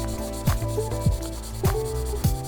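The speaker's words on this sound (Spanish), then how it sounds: "Estoy lijando." Hand sanding of an electric guitar's painted finish: steady scratchy back-and-forth strokes in an even rhythm, about four per couple of seconds, close up with no talking.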